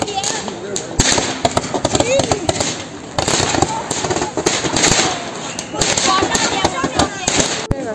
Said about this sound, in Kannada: ನೋಡಿ ಇವ್ರು ಪಟಾಕಿ ಹೊಡಿತಿದ್ದಾರೆ ಇವಾಗ.